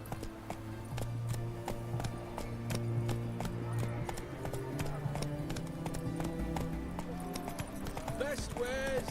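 Roach, the horse from The Witcher game, trots with steady clip-clop hoofbeats under background game music and ambient chatter, ending in a brief whinny near the close.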